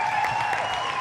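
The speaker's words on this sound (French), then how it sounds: "Est-ce qu'on peut applaudir pour Bamba Ahmed, s'il vous plaît?" An audience claps steadily for a brief moment at a live show, a dense and even sound of many hands with no voices.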